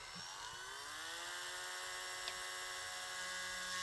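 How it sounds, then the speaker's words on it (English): A small power drill with a 1mm bit runs continuously during a toy wrist repair, a steady high whining buzz up close, alone and unbroken. "All right, we got a 1mm drill bit."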